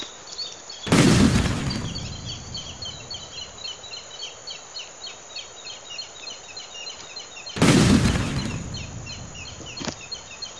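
Sniper gunfire in a video game: two loud, sharp shots about seven seconds apart, each trailing off in a short boom over a steady background of chirping birds.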